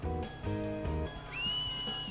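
In Final Fantasy X, during the Luca Blitzball tournament, a finger-whistled cheer rings out as a long, high, steady whistle over the game's background music.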